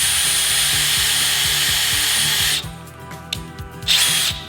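A power drill bores a hole into a ping pong ball for Christmas lights, a loud steady high whine with regular rhythmic pulsing that cuts off midway, followed by a few short bursts of drilling.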